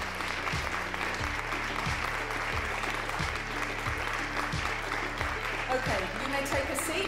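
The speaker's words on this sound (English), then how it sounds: "And some nice clapping, thank you so very much." Audience at a European Mobility Week and SUMP awards ceremony clapping steadily, a continuous wash of applause with a regular low thumping beat from music underneath.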